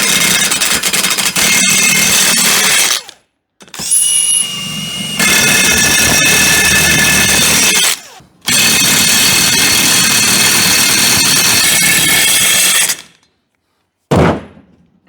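Loud bursts of a power impact tool driving lug nuts onto a wheel hub during a car repair, several long buzzing runs separated by short pauses, with clanks and a shop-like background.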